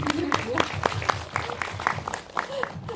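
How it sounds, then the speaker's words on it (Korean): Applause from the audience at a Korean indie film talk event, light and scattered with individual claps standing out over a few seconds, mixed with some murmuring voices. "박수 부탁드릴게요"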